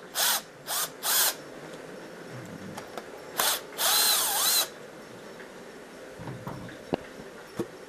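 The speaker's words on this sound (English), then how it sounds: "You get a Phillips screwdriver. These two holes are some bolts, or wood screws basically what they are." A Phillips screwdriver backs wood screws out of an MKA rifle stock, heard as short whirring bursts that sound like a power driver, several quick ones and then a longer run, with faint clicks and taps between them and no talk.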